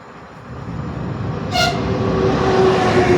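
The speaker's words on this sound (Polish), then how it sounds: "No i mam wjazd Elfa" A PESA Elf electric train pulls into Warszawa Włochy station with a steady, swelling rail rumble and a short horn toot partway through.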